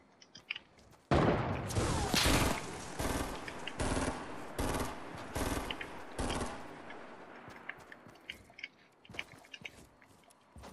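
Rapid automatic gunfire in a video game's La Huida mode bursts loudly in quick, rattling volleys, then thins into scattered, quieter single shots and clicks.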